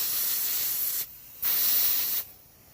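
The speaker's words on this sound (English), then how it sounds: "I'll get my airbrush right" Two short hissing bursts of an airbrush spraying paint onto a spotted bass taxidermy mount, each lasting about a second with a brief pause between, close and steady.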